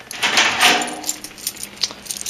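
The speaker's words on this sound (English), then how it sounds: "Grab my keys." Keys grabbed during reset of a Simplex fire alarm system after silencing the strobes and horns: a near, bright metallic jingle and rattle in short bursts, loudest early and then lighter clinks, with no talking.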